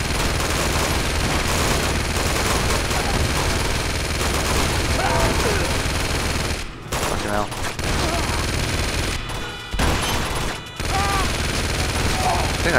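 Dense, sustained gunfire from a firefight in Uncharted 2's monastery level. Rapid overlapping shots and bursts run almost without pause, broken by a couple of brief lulls, with occasional voices mixed in.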